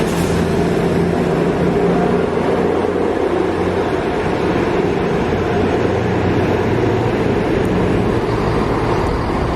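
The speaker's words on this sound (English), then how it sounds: "That's our train off to Sheffield." Loud, steady rumble and roar of a train pulling away from a station, bound for Sheffield, continuous broadband noise with no voices, holding constant throughout.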